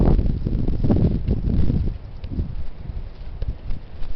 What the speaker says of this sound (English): There we have the leaves blowing in circles in the wind.